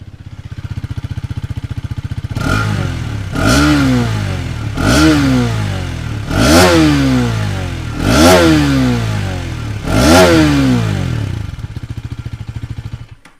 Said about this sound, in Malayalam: ഈ ഓൾ ന്യൂ 250 സീരീസിൽ വന്നിരിക്കുന്ന എഞ്ചിൻ്റെ ഒരു റെവിങ് സൗണ്ടും ഇതിൻ്റെ എക്സോസ്റ്റ് നോട്ടും കൂടി നമുക്കൊന്ന് കേട്ട് നോക്കാം.